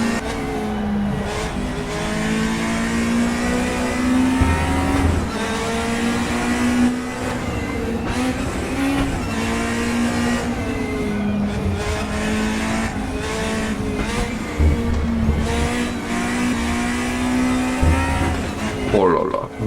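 Racing video game car engine played through a Fanatec Clubsport RS wheel, with a Volvo among the cars on track: a loud, sustained engine drone rises and falls with gear changes, and a voice talks over it at times.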